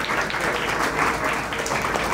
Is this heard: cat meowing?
no